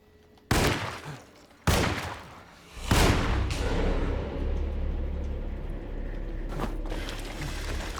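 Pistol shots in the horror game Alone in the Dark 2024, three loud sharp cracks fired a second or so apart, the last followed by a lingering rumbling tail and a fainter hit near the end.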